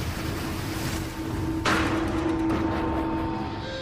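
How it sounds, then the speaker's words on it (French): Heavy ocean surf and wind roar steadily through a raging storm at sea, with a sharp surge of crashing water midway and a low sustained tone underneath; no voices. "Des tempêtes déchaînées s'abattent sur les océans."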